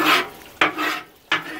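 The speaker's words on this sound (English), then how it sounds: "You take that same tool and just work all that stuff out of that drain" Three short rasping scrapes of a metal tool working grease out of the drain of an offset barbecue smoker pit, close and evenly spaced with brief pauses between strokes.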